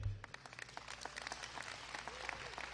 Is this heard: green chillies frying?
no